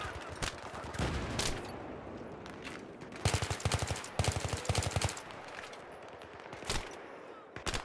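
Gunfire in the video game Battlefield 3: bursts of automatic weapon fire and scattered single shots, some close and loud and others more distant, in irregular clusters with no talking.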